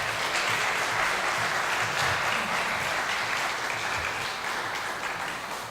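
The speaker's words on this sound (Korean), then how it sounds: "박수 한 번에 들어가겠습니다" A Korean church congregation in Rome claps to welcome a pastor to the pulpit at a Sunday service, sustained even applause that fills the room and tapers slightly near the end, with no talk over it.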